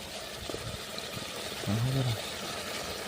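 Water poured into chicken curry cooking in a pot, a short gurgling pour that starts midway, faint beneath background noise.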